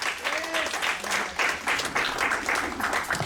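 A church congregation at a Sunday service breaks into close, steady applause, rippling clapping with faint cheering and voices mixed in underneath.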